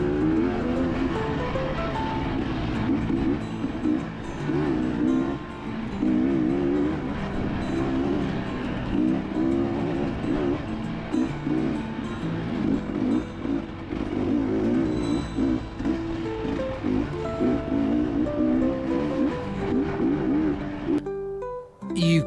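Enduro motorcycle on singletrack, engine droning steadily with rising and falling revs through gear shifts and heavy clutch use, loud and close throughout with no talk.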